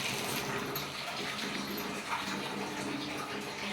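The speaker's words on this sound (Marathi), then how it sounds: "नळाचा आवाज आहे. नळ चालू आहे म्हणलं बकेट भरून ठेवा." Water runs from a household tap into a bucket as a steady, close rushing gush with a broad, splashy texture that stays constant throughout and has no voices over it.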